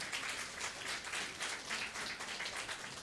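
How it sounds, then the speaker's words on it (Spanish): A church congregation at a New Year's service applauds as a sister is called forward for an award, a faint, even patter of many hands clapping from a distance with no talk over it. "con un fuerte aplauso"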